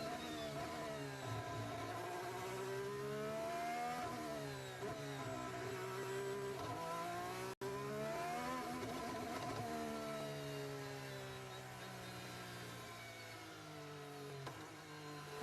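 A Formula 1 car engine losing power whines and revs in repeated rising and falling sweeps during practice at the 2024 Azerbaijan Grand Prix, faint and steady, with no one speaking.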